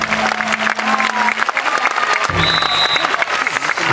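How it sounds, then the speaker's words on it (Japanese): Audience applause and cheering at the Nagasaki Kunchi festival after a sword dance, a dense, loud crowd clapping sustained throughout with a few whistles and shouts mixed in. "さあお客様、侍大将白谷一心君にもう一度拍手"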